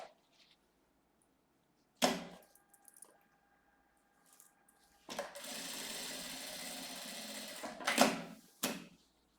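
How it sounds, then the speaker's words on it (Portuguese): A sewing machine runs a flat-felled topstitch from the front of the fabric in short bursts, with a brief whir, then a sustained run of about two and a half seconds, then two more quick spurts, separated by near silence. "E aqui eu vou passar uma costura de rebate."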